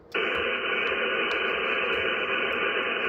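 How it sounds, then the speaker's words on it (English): A weak amateur radio station sits buried under a steady hiss of static, heard through a receiver during a hurricane watch net. The broad noise starts abruptly, and faint fragments of the signal come and go within it. "I'm copying a station down in the noise."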